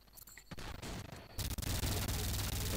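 Rapid machine gun fire in a video game bursts out loud and continuous, with a sharp, dense crackle that intensifies after a brief quieter opening.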